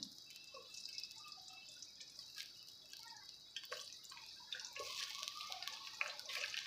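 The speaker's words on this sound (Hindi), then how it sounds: "ये देखिए, अच्छे तरीके से बैंगन जो है मैंने इसके अंदर डाल दिए।" Eggplant slices frying in hot ghee for an Afghani borani baingan dish give a soft, steady crackling sizzle with scattered small pops, fairly faint, with no talk.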